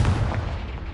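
A Confringo fire spell explodes in Hogwarts Legacy, a single heavy low boom followed by a rumbling blast that stays loud and dense for about a second before easing slightly.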